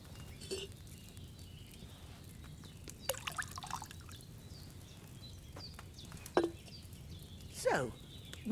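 Wine poured into a cauldron in the video game Kingdom Come Deliverance II comes through as faint, sparse liquid drips and small splashes over a quiet background, with no talking.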